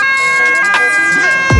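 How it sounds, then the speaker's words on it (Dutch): Emergency vehicle siren wailing behind street noise in Rotterdam, its rising and falling tones fairly clear at moderate distance, with a low thump of traffic near the end. "Oh, sirene op de achtergrond."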